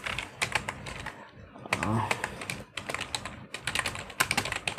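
Code is typed on a computer keyboard in quick, irregular bursts of close, crisp key clicks, with a short pause in the middle and a voice talking over part of it.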